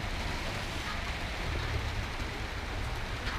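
Steady, dense rain falling outdoors in Pattaya, Thailand, a continuous close hiss of drops with no pauses and no voices.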